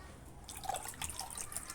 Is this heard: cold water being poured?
yes